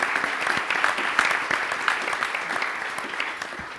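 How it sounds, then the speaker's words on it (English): A crowd at a business and politics forum in Michigan applauds in a full, steady round of clapping that tapers slightly toward the end, with no voices over it. "Please give them a round of applause."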